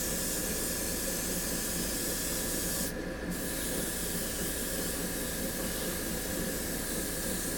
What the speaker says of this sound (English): I'm actually airbrushing on wood.